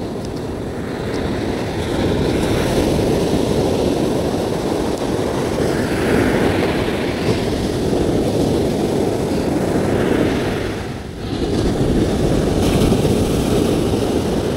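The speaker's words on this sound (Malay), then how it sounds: "Kalau ikut ke air alam surut tapi kasar lagi ombak." Rough ocean surf on a beach during surfcasting, a continuous loud roar of crashing waves mixed with heavy wind buffeting the microphone, with a brief lull near the end.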